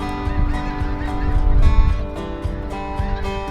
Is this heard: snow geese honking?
yes